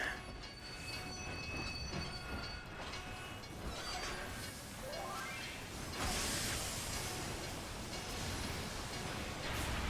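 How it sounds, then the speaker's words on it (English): A train rolls past on the tracks in a Final Fantasy XIV PvP match, a steady heavy rumble of wheels with metallic squeals and clanks, loud and close throughout. "the train is coming in from the other side"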